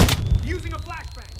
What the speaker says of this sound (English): Using a flashbang.